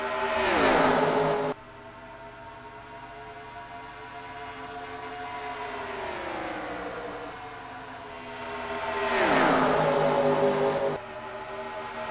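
Race cars accelerating off the start at Darlington in a video game, with a pack of engines rising in pitch and swelling in loud waves as cars pass, then fading between.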